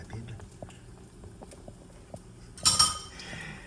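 A spoon clinks against a dish while pizza sauce is added for a naan pizza, soft scattered taps under a faint background, then one brighter clatter near the end; a voice speaks quietly.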